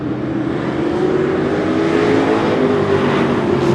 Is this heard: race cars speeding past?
yes